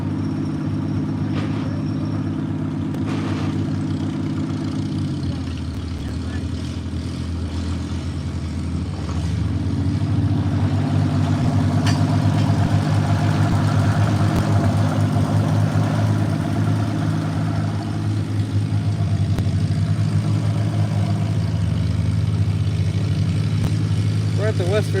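Antique tractor engines run at a tractor pull, giving a steady low mechanical drone. The note holds level at first, then deepens and grows louder midway as the engine works harder, with people talking faintly in the background.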